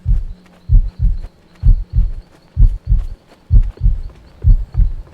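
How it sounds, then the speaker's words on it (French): Heartbeat sound effect in a horror video game, a loud, close, steady double-thump lub-dub pulse repeating about ten times at an even rhythm with a faint high tone in the background. "En plus, il y a un battement de cœur dans le jeu."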